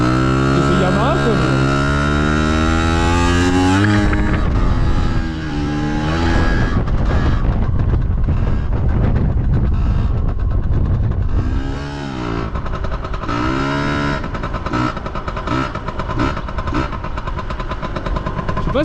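Chinese copy of a Piwi 80 mini motorbike, a small dirt bike, revving and riding nearby with rising and falling engine pitch; the engine runs loud throughout and talk can be heard over it.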